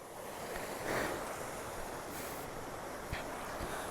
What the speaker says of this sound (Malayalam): ഒരു വെള്ളച്ചാട്ടമൊക്കെ ഉണ്ട്, നൈസാണ്.